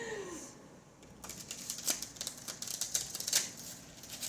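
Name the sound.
shuffling tarot cards by hand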